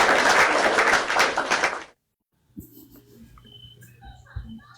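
Dense clapping from a group for about two seconds, then it stops abruptly and faint background noise follows.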